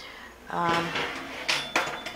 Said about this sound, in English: as I noisily shut the door